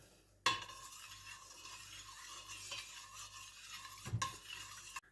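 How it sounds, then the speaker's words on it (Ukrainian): A spoon stirs berry liqueur made with blackcurrant and cherry leaves in a vessel, giving a soft, continuous swirling scrape framed by two sharp knocks against the container, close and quiet. "Перемішуємо."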